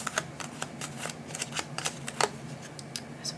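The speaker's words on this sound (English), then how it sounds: "And then we'll shuffle and get the 3rd card." Cards for the GATE board game are shuffled by hand at a table, a soft run of rapid riffling clicks and taps lasting a few seconds, close and quiet, with no talking.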